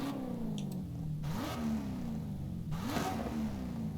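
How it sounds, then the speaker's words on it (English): A supercharged V8 car in the Forza Horizon 5 racing game revs its exhaust twice, each blip rising sharply then falling back to a rumbling idle, loud and close with no talking. "Right, what's exhaust sound like?"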